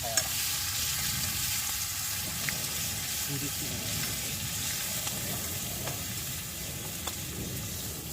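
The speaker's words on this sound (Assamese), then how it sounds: "আমি ভাজি আছো" Chicken drumsticks sizzle and crackle steadily in hot oil, a continuous close frying hiss with occasional stirring scrapes.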